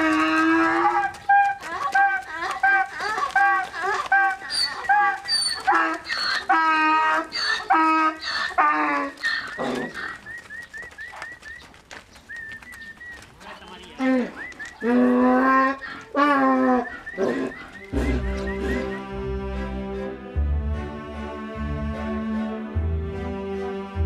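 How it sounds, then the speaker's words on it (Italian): Cows let out of the barn onto pasture give repeated loud, drawn-out moos one after another, with faint fowl sounds in the background and music rising toward the end. "È arrivato il momento di far uscire le vacche dalla stalla"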